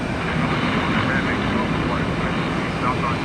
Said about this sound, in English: Heavy jet action, TPA.